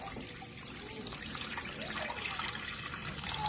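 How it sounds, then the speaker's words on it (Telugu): Rinse water draining off washed poha, a continuous close splashing gush of water pouring and trickling, steady and unbroken throughout. "వాష్ చేసిన తర్వాత వాటర్ అన్ని వడగట్టుకోవాలి."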